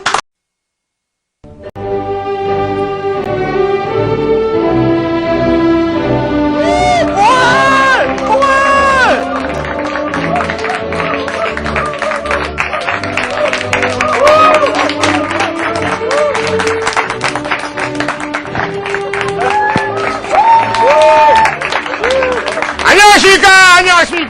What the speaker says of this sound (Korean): 끝으로 황봉알의 강의를 마치면서 박수를 다 같이 치겠습니다